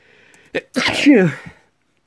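A single loud, close sneeze bursts out after a short inhale, ending in a brief trailing exhale, alone with no talk.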